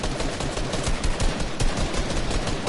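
Dense, continuous automatic gunfire in a competitive shooter match, loud and close, with overlapping rapid shots and no pauses.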